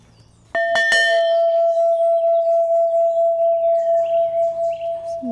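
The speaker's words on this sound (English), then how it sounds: "I get to pick which bell to ring." A bell rung by hand during an evening stroll, struck twice in quick succession and then left to ring, its clear tone sustaining and slowly fading for several seconds with faint outdoor ambience behind.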